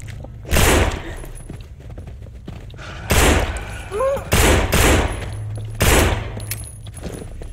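Gunfire in the zombie survival game No More Room in Hell: several loud, sharp broadband shots in separate bursts over a low steady background hum, with faint voices among them.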